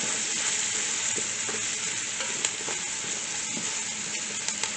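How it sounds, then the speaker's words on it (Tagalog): Potatoes being sautéed in a pan for a goat kalderetang dish, giving a steady, close sizzle with scattered scraping stir strokes throughout and no talk. "Sabay na natin ibigisa yan."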